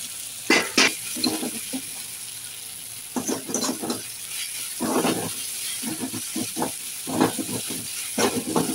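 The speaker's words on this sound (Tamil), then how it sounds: "இப்போ நல்லா இந்த வெங்காயம் வந்து இஞ்சி பூண்டு பேஸ்ட்டோடு நல்லா வணங்கணும்." Onions sauté with ginger garlic paste in a pan, heard as bursts of sizzling and stirring scrapes that come and go in uneven clusters over a quiet background, with no talking.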